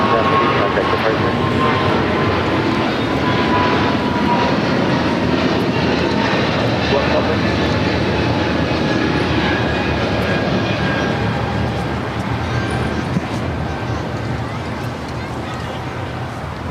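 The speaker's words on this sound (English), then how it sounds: "Air China, the 777, heading back to Beijing, rocking and rolling down at 24 left" An Air China Boeing 777 takes off from runway 24 left at LAX, its jet engines roaring loudly and steadily for the whole stretch, fading only slightly at the end, with faint voices underneath.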